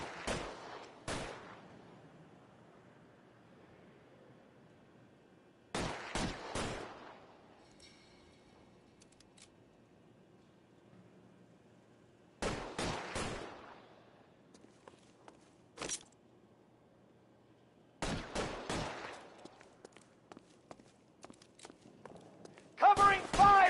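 Covering gunfire rings out in GTA, several short bursts of sharp shots separated by quiet gaps, with voices speaking between the volleys.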